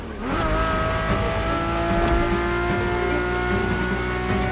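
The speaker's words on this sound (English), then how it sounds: "The F50's core is a normally aspirated V12 that came straight from a Formula One." A Ferrari F50 with a naturally aspirated V12 engine, racing in The Crew Motorfest video game, holds a steady loud drone with sustained engine harmonics and a rising pitch near the start, continuous throughout with no talking.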